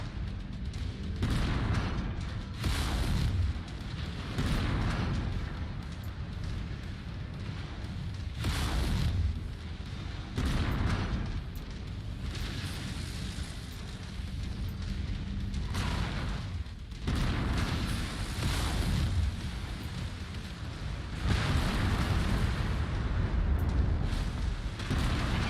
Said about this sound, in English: I can shoot missiles from this thing